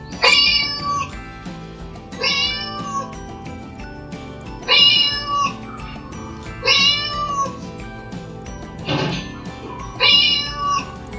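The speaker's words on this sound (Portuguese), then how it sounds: "Miau! Miau!" A cat meows repeatedly, about five clear, close, drawn-out calls spaced a couple of seconds apart, with a soft thump between two of them and quiet background music underneath.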